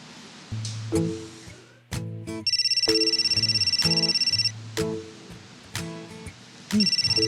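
A phone ringtone rings repeatedly in a steady, bright, tonal pattern, broken by a few soft knocks and handling noises.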